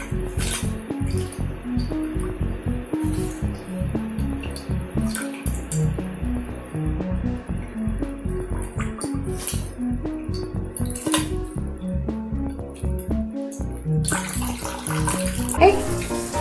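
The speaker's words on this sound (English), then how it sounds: "It's like a birdie shower right here." Tap water runs into a bathtub while a pet parrot bathes under the stream, a loud, steady splashing pour with scattered drips, continuing throughout and rising briefly toward the end.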